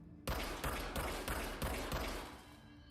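Rapid bursts of gunfire from a gun in Control, a sci-fi video game, crack out loud and close in a steady run of roughly six shots, ending in a short final pop.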